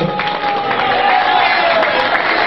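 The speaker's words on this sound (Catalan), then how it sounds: "Un aplaudiment per ells" Concert audience at a Toquem Fusta show applauding the performers, a dense, even roar of clapping and cheering that holds steady and fairly loud throughout.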